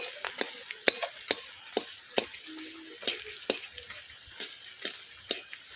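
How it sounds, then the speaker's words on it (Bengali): Fish roe fries quietly in oil with a soft sizzle while a spatula is repeatedly stirred and knocked against the pan, giving sharp clicks at an uneven rhythm. "এবারে মাছের ডিমটাকে উল্টি পাল্টি ভালো করে লাল লাল করে ভেজে নেব।"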